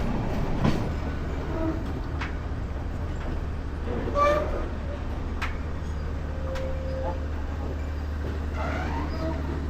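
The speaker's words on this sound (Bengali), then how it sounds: "আর রামু রেলওয়ে স্টেশনের সামনে আমাদের ট্রেন ঢুকতেছে।" Probal Express passenger train pulling into Ramu railway station near Cox's Bazar, heard from on board as a steady, heavy low rumble with occasional faint clacks and squeals over the whole stretch.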